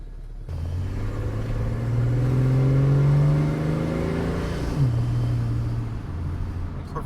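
A car engine fitted with a Sniper 2300 fuel injection system and a venturi restrictor plate accelerates, its deep rumble rising in pitch, easing off briefly and then pulling again, close and steady throughout.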